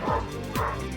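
Two sharp dog barks, one near the start and another just past halfway, each with a short yelping tail, loud and close with nothing else around them.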